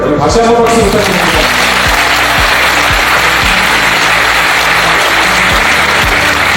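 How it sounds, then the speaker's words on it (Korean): A large lecture-hall audience at a special lecture for new junior civil servants applauding loudly and continuously, a thick wash of clapping, with a low repeating thump underneath at the start. "여러분 다시 한번 박수 부탁드립니다"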